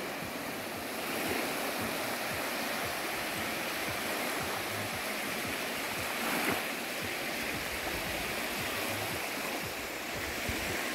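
A lakeside beach on Lake Peipus in Estonia at the height of summer gives a steady, soft wash of water and wind noise that holds evenly throughout, with no voices standing out.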